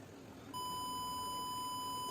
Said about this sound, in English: So the distance is less, so the buzzer has gone off.